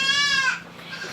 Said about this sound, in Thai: แพะนะคะ